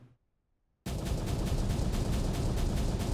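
Explosive blast in the mining and factory-building video game Out of Ore: near silence breaks into a sudden loud, dense roar that holds steady and rumbling for the rest of the clip.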